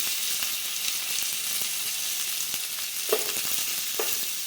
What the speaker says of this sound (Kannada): ಮೆಂತೆ ಕಾಳು ಮತ್ತು ಧನಿಯಾ ಕಾಳನ್ನು ನಾವು ಬಾಳ್ಗಿಗೆ ಹಾಕೊಂಡು ಈಗ ಕೊಬ್ಬರಿನೂ ಸಹಿತ ನಾವು ಹಾಕ್ಕೊಂಡು ಫ್ರೈ ಮಾಡ್ಕೋಬೇಕ್ರಿ